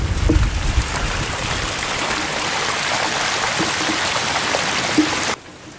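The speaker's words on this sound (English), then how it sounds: "Too much rain here for you guys." Heavy rain pours steadily onto a driveway in Tennessee, a loud, dense and continuous hiss of falling water with no voices, cutting off abruptly near the end.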